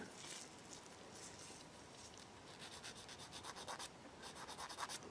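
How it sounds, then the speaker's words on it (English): Gentle sanding on a plastic Takom Chieftain Mk.10 model tank kit, a soft quiet rubbing with short rhythmic strokes that grow more distinct toward the end, with no talking. "it's going to literally be a case of very gentle sanding"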